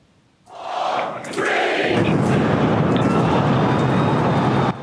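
A sudden deep rumbling blast from a SpaceX test rocket exploding minutes after launch swells up and holds as a sustained roaring, crackling boom, loud and continuous until it cuts off at the end.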